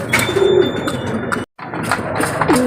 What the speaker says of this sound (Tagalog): mga kalapati.